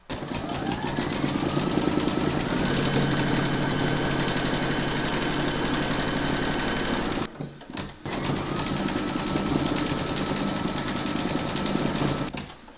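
Home embroidery machine stitching and quilting fabric held in a hoop, a continuous close whirring hum with rapid needle rhythm, briefly pausing once before resuming.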